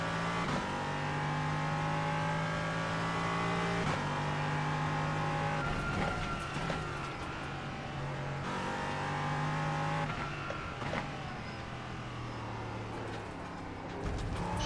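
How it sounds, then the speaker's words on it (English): An LMP3 prototype race car on new tires drives a track, its engine loud and close as it climbs through gears in repeated rising sweeps with sharp upshifts, running continuously without talk. "This LMP3 is very, very tough to drive on brand new tires."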